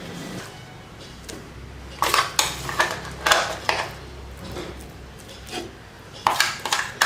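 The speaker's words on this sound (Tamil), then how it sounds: "இப்போ இதை வேற பாத்திரத்துக்கு மாற்றிட்டு தாளிச்சுக்கலாம்." Ground chutney being scraped and tipped into another cooking vessel, heard as short clusters of spoon-against-pot scraping and knocks over a quiet background.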